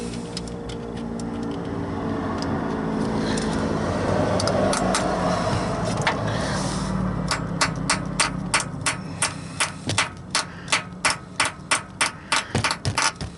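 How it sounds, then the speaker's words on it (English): Sharp metallic hammer strikes driving a Torx bit into a bolt, starting irregular over a steady mechanical hum, then settling into a fast, even series of ringing taps near the mic. "Hammer a Torx bit into the hole."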